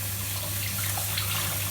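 Steady tap water runs through lettuce in a colander at the sink, a continuous close, full splashing hiss with no pauses.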